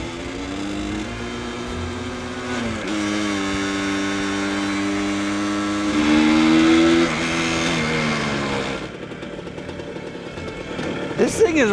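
A vintage Harley-Davidson motorcycle, left unused for decades, runs after a kick start, its engine idling and revving with a steady rumble close by while a person talks over it.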